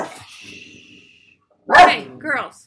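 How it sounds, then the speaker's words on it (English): Two small dogs named Noodle and Pickle bark indoors, a couple of sharp yips and barks after a quiet stretch, with someone talking softly beforehand. "She's barking"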